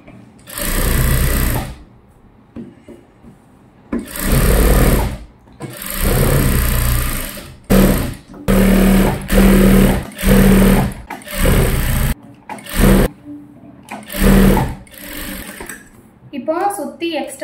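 A sewing machine stitches around the edge of a gown in repeated loud bursts of a few seconds each, separated by short pauses. A voice talks in the gaps between the runs.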